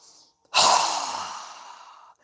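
One strong, forceful exhale through a wide-open mouth during a yoga breathing exercise, a loud breathy rush that fades out over about a second and a half.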